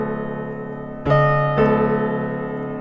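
A sustained chord rings on a Lumatone keyboard, then a bright new tone enters at about one second and another shortly after as the 67th harmonic extension is added, all blending into one fused, steady sound with no talking.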